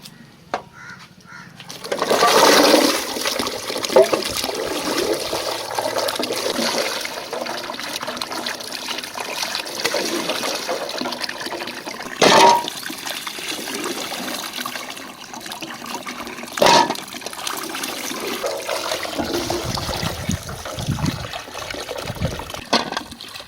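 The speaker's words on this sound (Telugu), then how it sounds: "శుభ్రంగా ఇలాగా కడిగేసుకోవాలి." Tamarind being washed in water: continuous close splashing and sloshing with a few louder splashes, steady throughout, with no talk.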